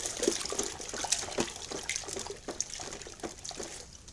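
Ice water mixed with salt and soap is stirred by hand in a chiller, giving close, irregular sloshing and clinking splashes that keep going steadily for a few seconds with no talk over them.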